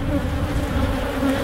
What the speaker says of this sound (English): There's a handful of nurse bees and worker bees trapped in there with her.